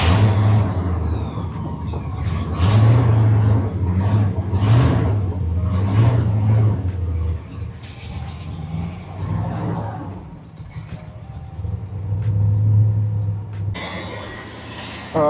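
A 1967 Ford Country Sedan station wagon pulls away on its first drive with a shifting fault, its engine droning and revving steadily near the microphone in a long continuous run that dips midway and then rises again.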